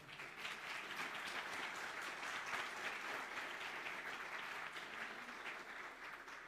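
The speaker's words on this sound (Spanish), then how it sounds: "Vamos a darles un aplauso, ¿no?" A church congregation at a Sunday service gives a round of applause, many hands clapping in a steady, diffuse wash that holds for several seconds at a soft, roomy level without speech.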